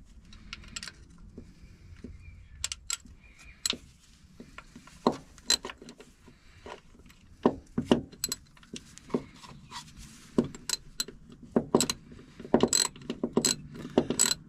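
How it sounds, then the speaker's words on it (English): A ratchet wrench clicks out transmission bolts under a Nissan 300ZX Twin Turbo, with sharp, irregular metallic ratcheting bursts and clanks that grow busier toward the end, close up and without speech. "Then we're going to take these bolts out, and then we'll take the bracket bolts out."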